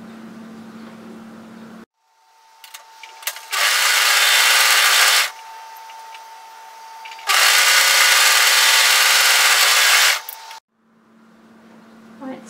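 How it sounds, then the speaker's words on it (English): An overlocker stitches the long curved centre back seam of a woven cape in two sustained whirring runs with a pause between, loud and close, with quieter handling noise before, between and after. "Place them right sides together, and we're going to overlock them together. We're going to overlock this long curve here"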